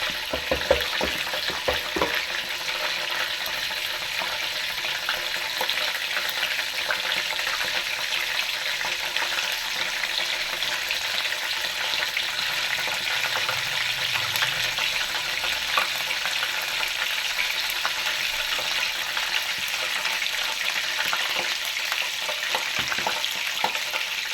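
Potato chips frying in hot ghee give a continuous, dense sizzle that holds at an even level throughout, close by and with no talk over it.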